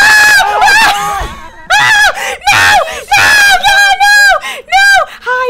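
A player shouting repeated loud screams in an Among Us proximity-chat session, a run of short close bursts broken by brief gaps, with other voices faintly underneath.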